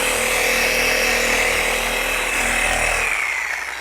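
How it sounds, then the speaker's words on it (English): A power polisher whirs continuously and loudly, close up, as it works polish into the paint of a Ford Continental Mark II with overlapping passes, its pitch steady before winding down at the end. "I'm just going to go ahead and massage this into the paint using overlapping motions"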